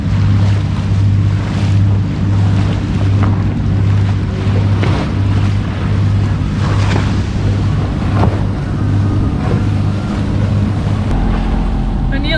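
Waves wash against a sailing yacht out on Sydney Harbour, a steady rush of water and wind noise with a low engine-like drone running underneath throughout.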